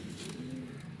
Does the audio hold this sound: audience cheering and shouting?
no